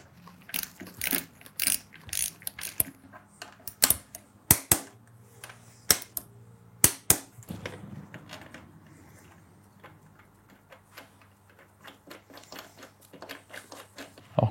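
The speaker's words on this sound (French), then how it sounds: "avant de serrer, je vais déjà approcher les vis" Ratchet snugging down the cylinder head bolts on a KTM 300 EXC TPI, with bursts of sharp close clicks between pauses and some lighter metallic handling noises.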